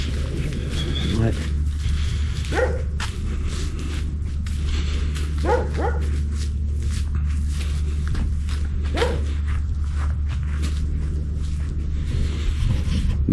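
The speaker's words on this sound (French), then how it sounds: "C'est un chien de Corse." A Corsican dog (Cursinu) at a desert dive camp gives several short, scattered barks over a steady low hum, with footsteps and people talking throughout.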